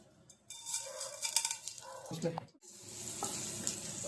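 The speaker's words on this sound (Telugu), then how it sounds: "ఆనియన్స్ అయితే బాగా వేయించాలి" Onions frying for potato kurma, made alongside vegetable pulao, sizzle close by in a pan, with stirring clatter and a brief pause midway before the hiss resumes steadily.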